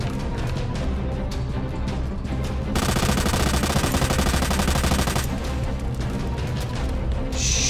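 Rapid automatic gunfire from Resident Evil 2, played as Hunk, crackles in loud dense bursts that swell into a sustained volley midway before easing back to scattered shots.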